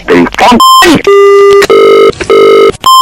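Flat electronic beeps from a dropped phone line during a prank call, a few sustained tones in quick succession right after a short burst of talk, loud and close.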